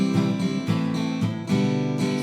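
Acoustic guitar strumming the chord pattern of a song in a steady down-up rhythm, a few chord changes ringing loud and full with no voice over them.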